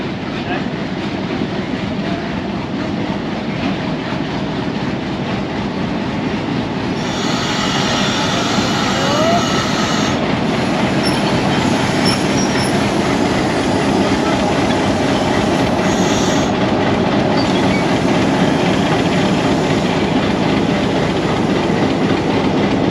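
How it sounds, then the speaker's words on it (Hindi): A Hitachi PHA-20 diesel locomotive pulls the Hazara Express out of Sargodha Junction in Punjab, with a steady engine rumble, wheels rolling on rails and occasional squeals, loud and continuous throughout. "PHA 20 8312 जो कि हिटाची का डीज़ल लोकोमोटिव है, सरगोदा जंक्शन से रवाना हो गया है"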